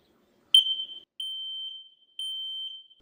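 A smoke alarm, interconnected with another, chirps once, then gives two long, loud, piercing high beeps with a short pause between, alone in an otherwise silent room.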